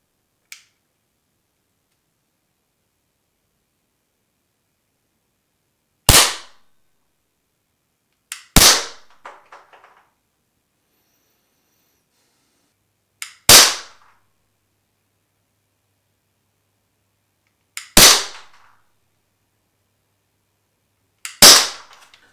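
Five sharp shots from a service pistol ring out one at a time at a shooting range, spaced several seconds apart, each a loud crack with a short echoing decay amid silence.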